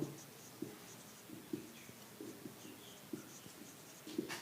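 Pen or chalk writing out a note during a lesson on atomic structure, with faint scratchy strokes and taps recurring irregularly at close range and no talking.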